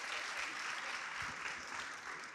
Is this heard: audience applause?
yes